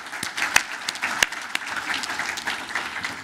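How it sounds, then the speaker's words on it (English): Audience applause at a business appreciation breakfast, steady clapping from a room of people with a few sharper, louder claps standing out, sustained throughout without speech. "a round of applause for North Glen Heating and Air Conditioning"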